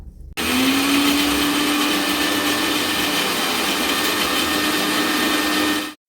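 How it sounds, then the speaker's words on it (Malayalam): A blender whirs steadily as it grinds a handful of cashew nuts with a spoon of sugar and a little milk, a loud, continuous motor drone that starts abruptly and runs unbroken for about six seconds before cutting off. "ഒരു കൈപ്പിടി നിറയെ കുറച്ച് കാഷ്യൂ നട്ട്സ് എടുത്തിട്ട് 1 സ്പൂൺ പഞ്ചസാരയും കുറച്ച് പാലും കൂടി ഇട്ട് അടിച്ചെടുക്കാം"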